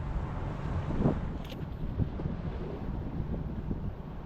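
Wind buffeting the microphone by the Han River near Seongsu Bridge during fishing, a steady broadband rush with gusty swells and a brief faint high tone, no talk.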